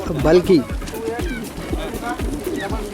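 Racing pigeons coo and flutter close by at a release for a 320 km race from Bhalki, with soft repeated wingbeat-like thumps and a voice speaking over the birds.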